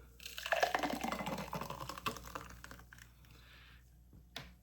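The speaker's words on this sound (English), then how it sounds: "Pour it into our cup." A thick smoothie is poured from a blender jar into a cup, giving a soft, close gurgling and splashing pour that fades into a few drips and a light knock at the end.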